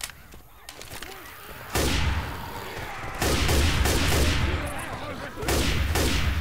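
Rapid gunfire rings out against zombies in the video game Left 4 Dead 2, in dense bursts and volleys that stop and restart several times, with game noise between them.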